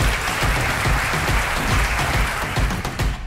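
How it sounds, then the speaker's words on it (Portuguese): A lecture audience claps together, giving dense, sustained applause that fills the room at full loudness without breaking for the whole moment. "uma salva de palmas"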